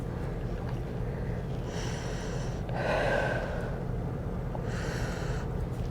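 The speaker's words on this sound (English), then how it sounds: "And breathe." Deep breaths during a yoga forward fold, slow audible inhales and exhales heard close over a steady background hiss, with one fuller breath standing out in the middle.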